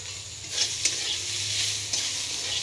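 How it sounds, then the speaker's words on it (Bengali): A few small tomatoes fry in a pan on a low gas flame, with a gentle hiss of oil and a handful of light spatula scrapes, close and quiet with no voices. "টমেটোটা দিয়ে একটুখানি আমি নাড়াচাড়া করে নেব"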